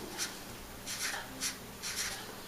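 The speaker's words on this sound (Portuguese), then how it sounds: "Vamos escrever aqui." Pen or marker handwriting during a math lesson, several short scratchy strokes in quick bursts, quiet and close, with no talking.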